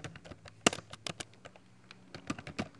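Keys clatter on a computer keyboard in quick, irregular taps, fairly faint, with a few louder strokes standing out and no talking over them.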